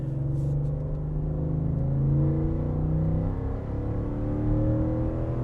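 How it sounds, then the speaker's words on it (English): A 2021 Ford F-150 XLT's 5-liter V8 rumbles through its exhaust during a test drive, a close, steady low growl with gentle swells in engine pitch and no talking. "As you can hear, the exhaust note is really impressive."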